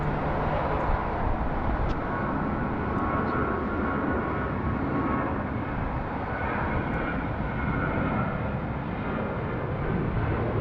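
A Cebu Pacific airliner at Sydney Airport on a high-wind day, its jet engines a broad, steady roar throughout, loud and unbroken, with no voices over it.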